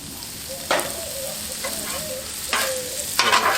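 Meat hitting a hot Blackstone griddle slick with bacon grease, a steady sizzle with louder bursts of crackle as pieces land, close and clear with no talking.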